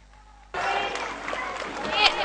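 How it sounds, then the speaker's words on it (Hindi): Loud applause from an audience at a school annual function breaks out suddenly and continues steadily to welcome guests onto the stage, a dense wash of clapping with some crowd noise. "जोरदार तालियों से मैम का स्वागत कीजिए।"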